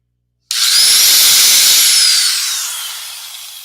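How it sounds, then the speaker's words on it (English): A hand drill bores pilot holes in wood in one loud, high-pitched whining burst that starts abruptly and then tapers slowly. "I use a hand drill with a level bubble on the back of it to make sure I'm drilling straight up and down."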